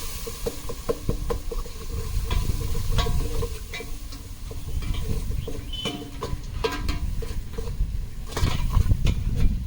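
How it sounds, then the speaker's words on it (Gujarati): Garlic, chillies, coriander, tomato and curry leaves frying in a pan while being stirred, with a continuous sizzle broken by repeated scraping and knocking of the spoon against the pan, close by and with no talk. "મરચાં, ધાણા, ટમેટા અને લીમડો નાખી દેવું. અને હવે મસ્ત હલાવી લેવું."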